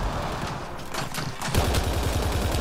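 Rapid bursts of cannon fire in Mass Effect Andromeda multiplayer crackle and thud continuously, growing heavier and louder midway through, like sustained video game gunfire.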